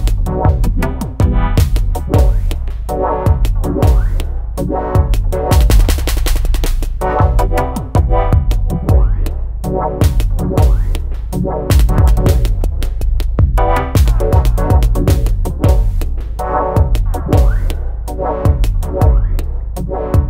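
An Elektron Digitakt groovebox plays a pattern in song mode, a loud, continuous electronic beat of punchy kicks and rhythmic synth hits repeating in a steady loop with no talking.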